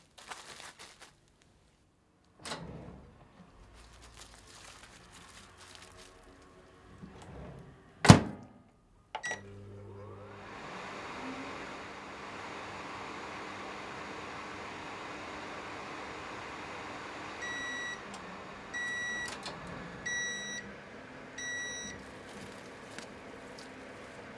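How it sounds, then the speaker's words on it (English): A few thumps and a door clunk, then a steady hum of a microwave oven heating wrapped spinach, followed by several short high electronic beeps near the end. "Wrap and heat in the microwave for 1 minute."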